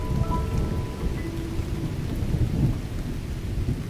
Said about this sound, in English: Thunder that hammers down the sky